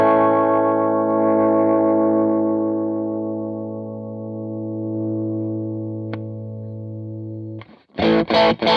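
An electric guitar played through a Wampler Moxie overdrive pedal with the gain turned up, a loud sustained distorted chord ringing and slowly fading, then a burst of new chugging strums at the end, no talking.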